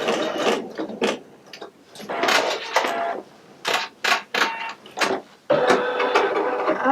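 A Pfaff Creative Icon 2 embroidery machine stitches flower centers, its close mechanical whirring and clicking running in uneven bursts with short pauses between runs of stitches.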